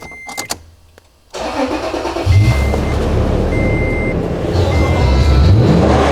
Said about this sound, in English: start the engine and push the gas pedal down with my hand